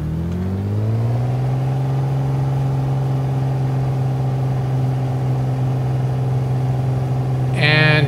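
Piper PA-28R Turbo Arrow engine brought to full power in the MSFS 2020 flight simulator, a loud, steady droning hum that rises briefly at the start then holds constant, ending with a short higher-pitched click or chime.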